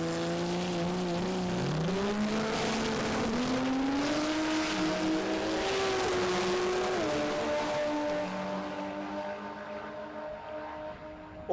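A drag racing car at the Brisbane Jamboree event accelerates hard, its engine pitch climbing through each gear with distinct shifts, then the roar recedes and fades toward the end.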